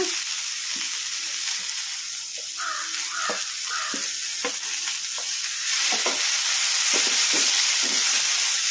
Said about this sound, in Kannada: ಕಲಿಸ್ಕೊಂತ ಫ್ರೈ ಮಾಡ್ಕೋಬೇಕು.